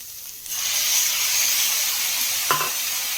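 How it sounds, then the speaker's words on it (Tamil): Big onions and tomatoes sautéing in a pan for brinjal chutney, a loud steady sizzle and hiss starting abruptly, with one brief clink of a utensil near the end. "ரெண்டு பெரிய வெங்காயம் நல்லா வதக்கி விட்டுக்கலாம் இப்போ இது கூட ரெண்டு தக்காளி சேர்த்துக்கலாம்"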